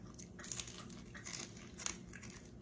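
Crisp crunching as a fried fish tail fin is bitten off and chewed, a few sharp crackling bites over soft steady background noise, close and fairly quiet.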